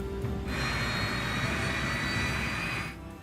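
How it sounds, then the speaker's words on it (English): Three jet engines on a Yak-42 airliner spool up into a loud, steady whine and roar that holds for a few seconds, then drops back to a lower rumble. "The crew starts the Yak's 3 engines"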